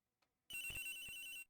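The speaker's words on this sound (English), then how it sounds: "It's ringing from somewhere, sir." A mobile phone rings in the Ace Attorney Investigations video game. A brief electronic ringtone chirps for about a second after a faint tick, heard alone and fairly clear.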